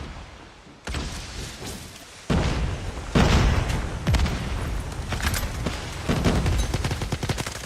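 Gunfire and an explosive grenade burst in the mobile shooter Call of Duty Mobile during a World Championship esports match, with dense, loud rattling shots and booms layered continuously after a quieter opening second.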